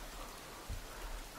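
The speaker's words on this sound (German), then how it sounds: "Oh, es regnet, ja." Steady rain falls in the survival video game The Forest, a soft, even broadband hiss with a faint low thump, heard alone without speech.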